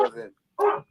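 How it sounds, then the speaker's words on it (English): A dog gives two short barks, clearly separated, each with a yelping, slightly whimpering tone, heard fairly close with nobody speaking over them. "that is a dog barking in the background"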